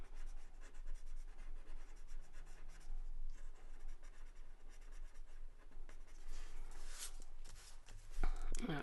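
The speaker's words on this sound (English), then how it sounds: "I'm pulling the graphite up and over those lines that we drew to create" Graphite pencil shading on a paper card for a Halloween Zentangle drawing: a steady, close scratchy rubbing that runs throughout, with a few louder strokes near the end.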